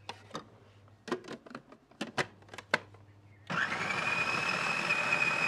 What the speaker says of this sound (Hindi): इसको हमने चॉपर में डाल के चॉप करना है